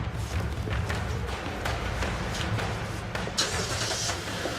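A car engine starts and keeps running as the driver pulls away, a dense, moderately loud mechanical roar with small surges, heard close by with no talk over it.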